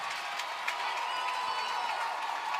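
A crowd at a college softball game between Texas A&M and Texas applauds and cheers steadily, a dense, distant wash of clapping and shouts with no break.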